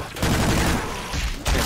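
Gunfire in Left 4 Dead 2: a short, dense, loud burst of shots that fades and then returns briefly at the end, with little talk over it.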